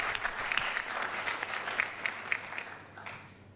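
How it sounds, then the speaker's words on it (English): A crowd applauding steadily, dense clapping throughout that fades gradually toward the end. "give yourselves a great round of applause"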